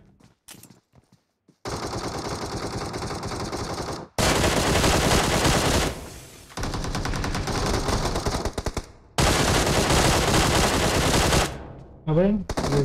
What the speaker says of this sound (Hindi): कौन गोलियां चला रहा है